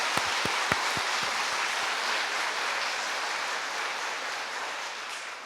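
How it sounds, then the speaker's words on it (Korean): A church congregation at an Easter Sunday service claps in praise to God, dense sustained applause filling the room after a few distinct opening claps, slowly easing off toward the end. "우리 하나님께 영광의 박수 올려드리겠습니다"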